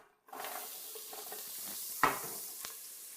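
Chopped carrots and celery hitting a hot pan for beef bourguignon, a steady close sizzle with a few sharp clinks of a utensil against the pan, no voices.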